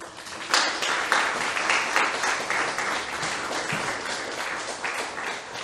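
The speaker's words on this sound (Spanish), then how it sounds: "Denle un aplauso al Rey." A church congregation breaks into applause during a sermon, with dense, sustained clapping and a few sharper individual claps standing out, continuing evenly and unaccompanied throughout.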